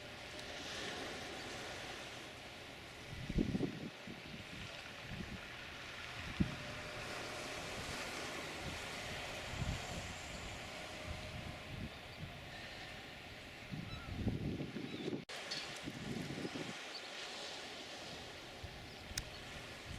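Seashore at Ault on the Somme coast: a low, continuous wash of sea waves on the shore under steady wind rush, with a few slightly louder surges.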